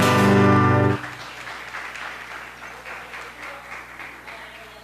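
Congregation applause in a church service follows a loud sung or musical burst that cuts off; after it, soft, steady clapping from the congregation carries on at a moderate, fairly distant level.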